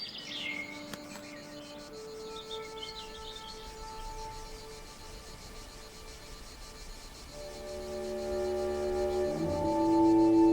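A blue tit calls in Mediterranean scrubland of holm and downy oaks, with high thin chirps early on, sustained tonal notes through the middle and a louder burst of song near the end over faint insect hum.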